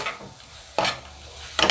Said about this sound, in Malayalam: 5 minutes നന്നായിട്ട് വന്നിട്ട് ഇത് നന്നായിട്ടൊന്ന് വഴറ്റുക ഈ തക്കാളി